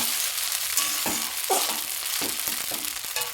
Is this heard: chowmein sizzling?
yes